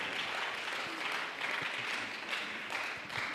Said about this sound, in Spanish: Démosle otro aplauso al Señor esta noche